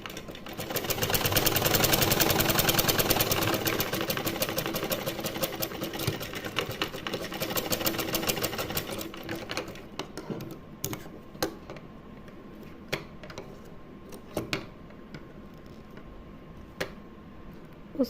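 A sewing machine runs steadily, stitching a seam joining net fabric lace for a small deity outfit, a continuous loud whirring buzz that later thins into scattered clicks and ticks as it slows, with no talk.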